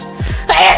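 A single sneeze in a home kitchen where spices are being stirred into a shrimp seafood boil: a quick gasping intake, then a sharp, breathy burst that trails off, close and fairly loud.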